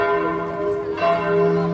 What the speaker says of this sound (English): Here the bells are going crazy.